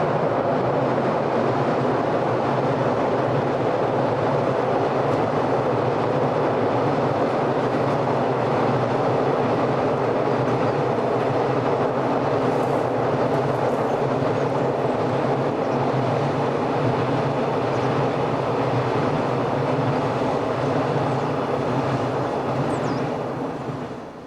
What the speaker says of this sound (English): Working the international container train between Vigo in Spain to Lisbon docks is number 1972